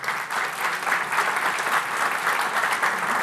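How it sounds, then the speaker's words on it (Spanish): Sustained audience applause fills a conference hall at a Chilean summit on underground megaprojects, a dense, even clatter of many hands that holds steady throughout without pause. "He merecido el aplauso"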